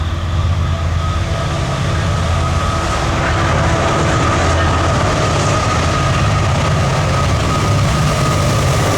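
A Canadian Pacific AC locomotive hauls a train past on a Norfolk Southern Chicago main line, a loud, steady rumble and rolling clatter of wheels with a sustained tonal drone, continuous and close throughout with no talk.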